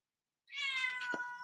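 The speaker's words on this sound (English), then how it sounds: "Kitty." A single clear cat meow, close and fairly loud, with a tonal, harmonic cry that holds for about a second after a brief silence, alone with no talk.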